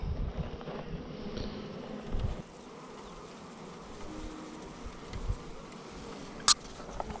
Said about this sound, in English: if you look down in there, you can see all the bees.